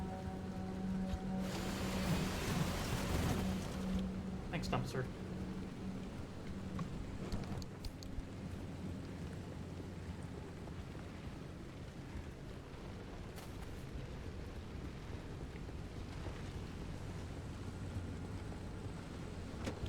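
Rain and thunder sweep through the video game Pacific Drive, a steady rain wash with a loud rumbling burst early on and softer rolls afterward, with a brief spoken remark over it.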